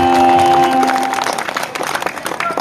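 Audience clapping for Lord Veerabhadreswara at a temple fair, a burst of dense, loud applause from a crowd that starts over a fading sustained tone and thins into scattered claps.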